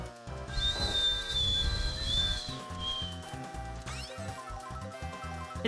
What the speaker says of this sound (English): I tried doing the double dash whistle again.